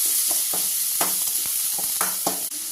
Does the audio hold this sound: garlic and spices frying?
yes